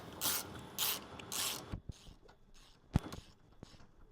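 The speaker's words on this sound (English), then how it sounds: "Now we'll get these straps tightened up." Ratchet straps being cranked tight on an under-mount water tank beneath a Ram ProMaster van, three bursts of rapid clicking followed by scattered sharp knocks and clunks, close and fairly quiet.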